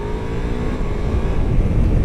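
A Ducati Multistrada V4S motorcycle accelerating hard in second gear in sport mode, a loud, close engine roar that climbs steadily in pitch, heard alone with no talking.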